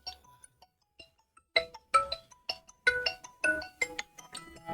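A phone ringtone plays in a repeating electronic melody, starting faintly and then sounding clearly through a series of bright, rhythmic tones during an online training call.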